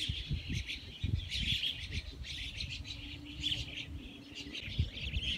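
Myna perched in a tree calling, a series of bright chirps and whistles at moderate distance, with faint low outdoor rumble underneath and no talking.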